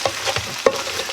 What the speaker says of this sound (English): we're going to get this stirred up just a little bit.